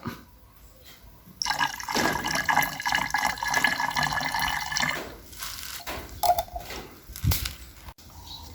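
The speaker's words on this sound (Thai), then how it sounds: "เราจะนำแอลกอฮอล์นะครับ ที่ได้เตรียมไว้ เทเข้าไปผสมกับน้ำยานะครับ" Alcohol pours from a container into a homemade rat-repellent solution, a close, steady liquid splash lasting a few seconds, then trailing drips and small handling clatters.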